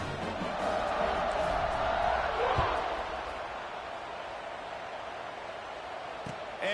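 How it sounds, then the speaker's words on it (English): A football stadium crowd buzzes after a score, a dense, steady roar of many voices filling the space, louder at first and then settling slightly, with a commentator talking over it. "this crowd is buzzing after that last score"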